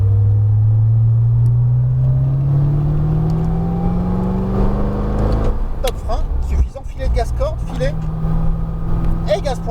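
A 647 hp Corvette ZR1 accelerates hard on a race circuit, its engine note climbing steadily in pitch, then stuttering through quick shifts and revs as a voice talks over it.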